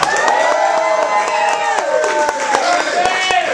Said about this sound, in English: Ladies and gentlemen, a big round of applause for Dave Santia.